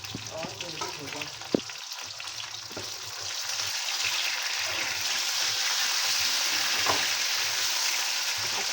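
Half a kilo of chicken sizzling and frying in a pan with onions, a steady crackling hiss that builds and stays loud, with a few clinks of stirring near the start.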